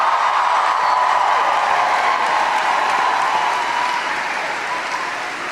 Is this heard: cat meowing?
no